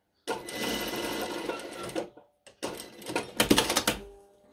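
A sewing machine runs a topstitch along the back and front neckline of a long dress, whirring steadily in close bursts that stop at each corner, with a short pause and a few slower stitches near the end.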